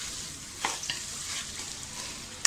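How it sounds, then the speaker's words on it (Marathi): Masoor lentils sautéed in a pan give a faint, steady sizzle, with a few soft scrapes of stirring and a sharper clink near the end. "मसूर सुद्धा आपल्याला छान परतून घ्यायची आहे।"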